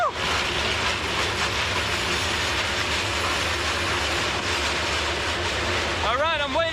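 A freight train rumbles steadily along the rails with a continuous metallic roar, close and loud, ending with a brief wheel squeal.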